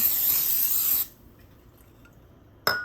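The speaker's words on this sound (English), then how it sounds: "Okay, and we have some spray oil. We're gonna spray the pan." A close cooking oil spray hisses onto a pan for about a second, then stops into quiet, followed by a brief second spritz at the end.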